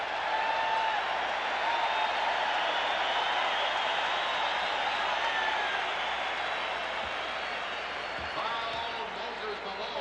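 Basketball arena crowd roaring and cheering steadily during the 1987 NBA All-Star Game, a dense sustained wash of crowd noise with faint whistles and voices mixed in throughout.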